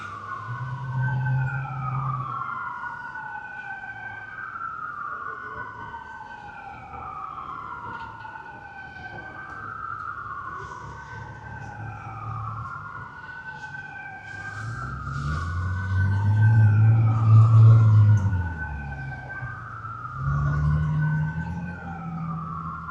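A wailing emergency siren sweeps up and down repeatedly, steady and prominent, with a low engine rumble swelling midway as traffic passes on a street in Los Angeles between Chinatown and Dodger Stadium on Opening Day.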